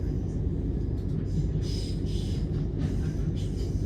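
Passenger train rolling into a London station at Imperial Wharf, a steady loud rumble with wheel and carriage noise throughout and faint higher squeals.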